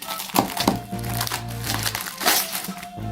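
Crinkly plastic packages are unwrapped one by one, giving close, bursty crumpling and crackling rustles with brief pauses between handlings.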